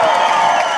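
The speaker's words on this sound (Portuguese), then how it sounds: "Bota a mão pra cima e aplaude aí," A party crowd at the Verão do Pernalonga 10th anniversary celebration claps and cheers in a loud, dense, continuous wash of applause.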